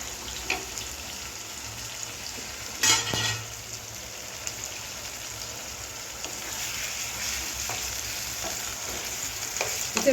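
Chicken fries with ginger, garlic and onion, giving a steady close sizzle with occasional stirring scrapes and clanks against the pan.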